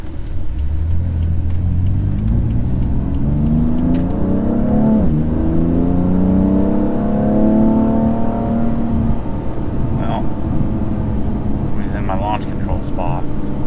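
Car engine pulling hard at full throttle, from a BMW M3 or Porsche 911 GT3, with rising harmonic engine tones that sweep upward and level off, loud and close, followed by quieter running and faint clicks near the end.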